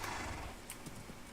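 A horse neighs and its hooves clip-clop in the Lord of the Rings video game, a faint whinny over a quick run of hoofbeats.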